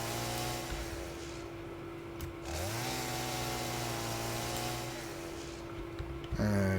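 A chainsaw in the factory-building game Satisfactory drones with a steady, buzzing engine tone, dipping and revving once partway through before a sharper burst at the end, loud and close with no talking.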